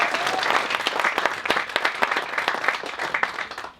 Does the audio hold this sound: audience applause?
yes